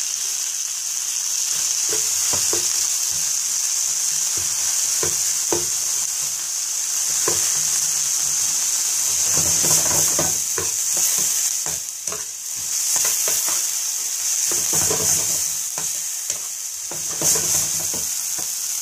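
Tomatoes added to lightly browned onions frying in a pan for spicy masala pasta, a steady loud sizzle with repeated spatula stirs and scrapes running throughout.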